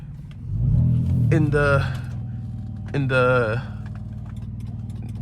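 A car engine rumbles from inside the cabin during a drive, swelling in two short revs before settling back to a low, steady drone. Someone talks over it.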